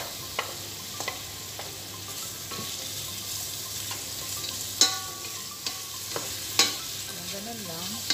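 Onion frying in a pan for an okra and eggplant dish, a constant sizzle broken by intermittent stirring clicks and a couple of sharper utensil knocks, no speech.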